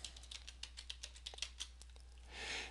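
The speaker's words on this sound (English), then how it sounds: "Type in your email address and enter your password." Someone types an email address and password on a computer keyboard: a quiet run of light, irregular key taps, followed by a soft brushing swell at the end.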